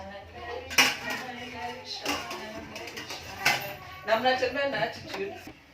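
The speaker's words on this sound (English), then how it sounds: "So now the hibiscus is boiled. So we are going to sieve it." Metal pots and utensils clatter and clank while boiled hibiscus and ginger are strained through a sieve, sharp knocks landing irregularly over a low kitchen background; a voice is faintly present.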